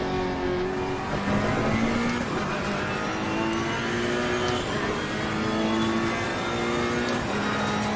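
GT3 race car engine in a sim racing game at Imola, a loud continuous drone with steady revving harmonics and gear-related pitch shifts throughout, no talk over it.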